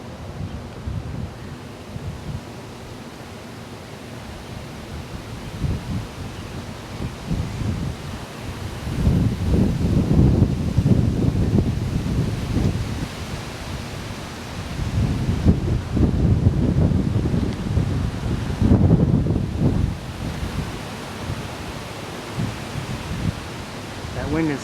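Gusty wind buffets the microphone in low, rumbling bursts that swell and fade, strongest in the middle and near the end.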